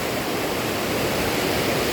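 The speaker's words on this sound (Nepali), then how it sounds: "खोला अहिले गतिलो आइरहेछ" A river rushes strongly past a rock garden at Oso Park, a loud, continuous broadband roar of fast-flowing water with no voices.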